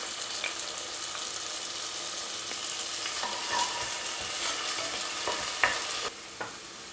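Washed rice sizzling as it is stir-fried over sautéed onions, a steady close hiss broken by scattered sharp spoon clicks and scrapes, with no talk.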